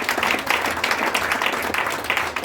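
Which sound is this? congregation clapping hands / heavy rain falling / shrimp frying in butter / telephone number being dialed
congregation clapping hands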